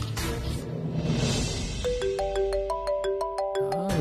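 A phone ringtone for an incoming call rises out of low room murmur and plays a bright, stepped electronic melody of repeating notes that climbs and continues to the end, fairly close.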